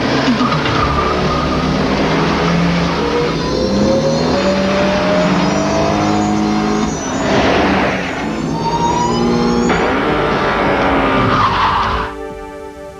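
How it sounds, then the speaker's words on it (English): A redesigned Colt GT with a 16-valve fuel-injected turbo engine drives hard, tires skidding and squealing over a loud, rising and falling engine roar that fades at the end, with no one speaking. "This is the totally redesigned Colt GT with a new 16-valve fuel-injected turbo power plant."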